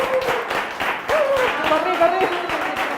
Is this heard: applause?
yes